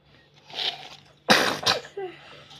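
A single loud, sharp sneeze bursts out after a brief rustle, followed by a softer breathy second sneeze-like burst and a short trailing vocal sound, close to the mic in a home kitchen while cupcakes are being topped.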